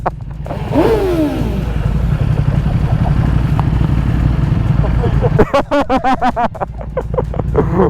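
Ducati Panigale V4S superbike in London, its exhaust crackling and popping in a rapid string of sharp bangs after a rev, close and loud, with engine drone and a voice beforehand.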